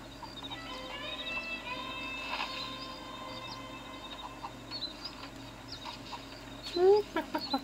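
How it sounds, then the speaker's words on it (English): Chicken clucking and crowing in the Red Dead Redemption video game on an Android emulator, faint scattered fowl calls over a farm ambience, ending with a few louder close squawks. "That's the chicken."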